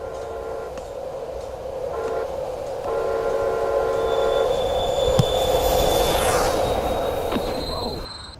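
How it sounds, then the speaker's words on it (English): A Metro Rail train rolls past steadily, its wheels and carriages droning with rising hiss and a faint squeal of wheels on track, loud throughout with no talk. "Look, the train."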